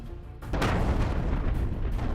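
An SUV bomb detonates against a bus in a 78-vehicle CRPF convoy at Pulwama, a sudden loud, heavy boom that swells into a sustained rumbling roar, with no voices.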